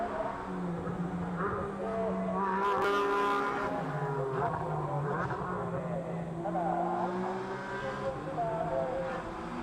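A BMW GT race car accelerates under the crossover at Suzuka during GT World Challenge Asia qualifying, its engine note rising and shifting through gears, heard under steady commentary from a live broadcast.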